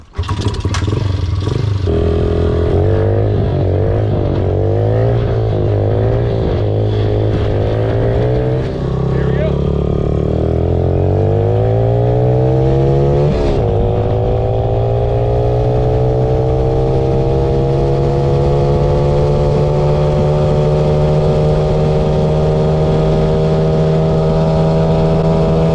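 Nitrous-fed mini bike engine revving loud and close on a top-speed run, pitch climbing in repeated surges then holding a steady high drone near 40 mph, with heavy wind buffeting throughout.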